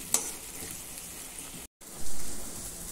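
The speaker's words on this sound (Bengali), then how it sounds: "বাটা মশলাটা, এটাকে আঁচ বাড়িয়ে আমি আগে ভাজা ভাজা করে নেব।" Ground spice paste fries over high heat for Bengali doi maachh, a steady dense sizzle at close range with a short dropout midway and a louder crackling surge toward the end.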